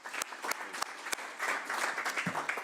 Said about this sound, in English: round of applause to Lance on his birthday.